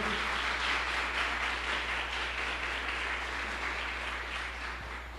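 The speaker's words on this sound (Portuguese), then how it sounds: "Pode aplaudir com alegria ao Senhor" A church congregation claps with joy in a steady, dense wash of applause that holds for several seconds and eases slightly at the end, with no talking over it.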